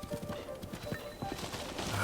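A horse in Breath of the Wild, ridden into the Lost Woods, clip-clops with steady rapid hoofbeats throughout, close and continuous under light ambient game sound.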